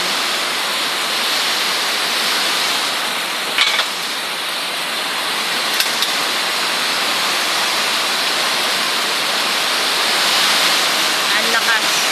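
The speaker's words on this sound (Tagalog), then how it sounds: "At bigla na pong lumakas ang ulan." Heavy typhoon rain pours down in a dense, steady roar around a shop, loud and close with no breaks, with a few faint knocks scattered through.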